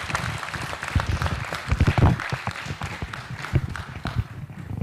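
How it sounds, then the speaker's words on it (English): A conference audience at an African writers' event gives a round of applause, scattered, uneven clapping with a soft, muffled, somewhat distant quality, continuing throughout. "let us show a hand of applause for his accomplishment"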